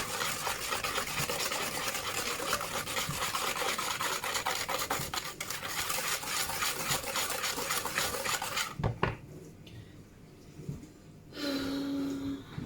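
Rasping, scraping strokes of banana cake batter being stirred with mashed bananas and flour, steady and close for most of the stretch, then a few clinks and a quieter pause before a brief tonal sound near the end.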